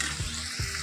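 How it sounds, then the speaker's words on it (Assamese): Yogurt-marinated chicken in a pan on a medium gas flame, with a steady close sizzle and two quick stirring scrapes. "এতিয়া মই এনেদৰে লৰাই দিছোঁ।"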